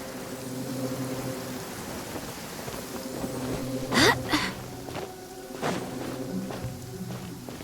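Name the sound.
rain falling in the video game Genshin Impact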